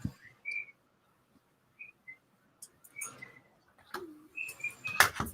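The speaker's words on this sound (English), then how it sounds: "No, that's a cockatiel." A pet cockatiel indoors gives short, thin whistles and chirps, scattered with pauses and faint in the room, some slightly clustered near the end.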